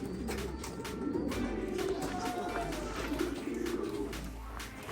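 Pigeons cooing in a loft, low repeated throaty coos rising and falling in steady phrases, close by and moderately loud over a constant background hum, with no voices.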